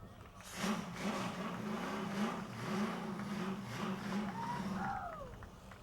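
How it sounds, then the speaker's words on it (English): Family number 74 race car lapping Motordrome Speedway, its engine a steady distant drone with swelling passes, heard under continuous crowd and announcer chatter. "As Jason's father takes their family number 74 race car around the speedway"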